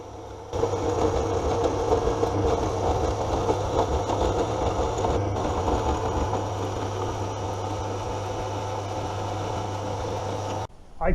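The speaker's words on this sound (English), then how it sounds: "two sections of 30 by 30 millimeter square hollow section sitting in the clamp being cut" A saw cuts through two lengths of 30 by 30 mm square hollow steel section held in a clamp, giving a loud, continuous grinding drone that stops abruptly near the end.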